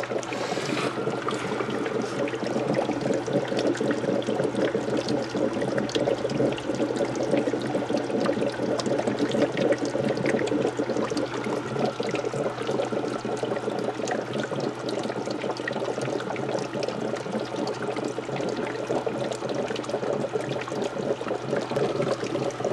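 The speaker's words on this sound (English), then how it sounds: "Take a look at the production through the bubbler here." A hydrogen generator run on 120-volt AC house power pushes gas through a water bubbler, making a steady, dense bubbling and gurgling that continues without a break. It sits close and fairly loud, with no talk.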